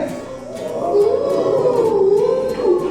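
A person imitates a fox's howl: one long, wavering, voice-made cry that rises and falls steadily for about three seconds, fairly loud and with no other sound around it.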